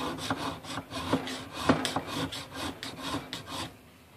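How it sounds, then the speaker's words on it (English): A metal file rasps across the spine of a knife in slow, repeated push strokes, each a close, gritty scrape with short pauses between, and no talking. "So now you see that I'm holding the file sideways against it. Well, the file only cuts on the push stroke"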